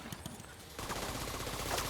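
In The Division 2, a rapid burst of burn-bullet gunfire breaks out after a quieter moment, dense and continuous for over a second at low overall level.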